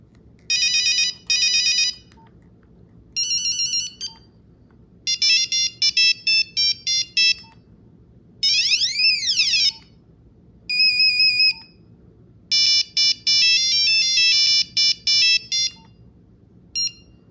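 A Nokia 1260 mobile phone plays a shrill monophonic ringtone, a beeping, single-voice melody in repeated bursts separated by short pauses, with warbling and sweeping tones.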